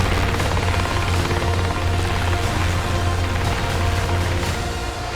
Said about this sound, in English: You don't really like choppers then?